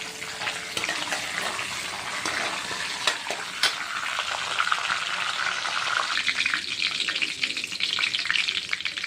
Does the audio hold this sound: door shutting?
no